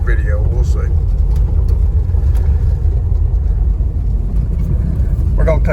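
A Jeep XJ drives along a gravel road, giving a loud, steady, close low rumble of engine and tyres on gravel throughout, with a person's voice heard briefly at the start and end.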